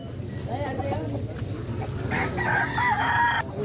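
Red chickens cluck and a rooster crows nearby at a livestock market, heard over a background of voices and general farmyard bustle.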